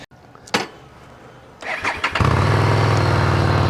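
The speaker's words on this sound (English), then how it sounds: "We're going to go ahead and rev this up and hear how it sounds" A Harley-Davidson Street 750 motorcycle engine cranks with a few clicks, then catches and roars into a loud, throaty idle close by.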